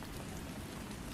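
Steady rain falls without pause, a dense even hiss of drops close by with no thunder or other sounds.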